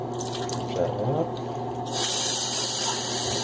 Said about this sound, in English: I'm going to put a little bit of water in a bowl, in one of these salsa bowls